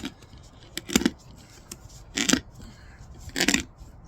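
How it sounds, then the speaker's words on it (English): Scissors strain to cut Konjoun SuperSocks fabric, giving three separate close crunching snips spaced about a second apart, with quiet between them and no talking. "I'm gonna try the other side of the scissors."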